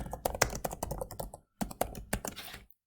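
Computer keyboard typing out a message, a fast run of close, crisp key clicks with a brief pause midway before a second burst of keystrokes.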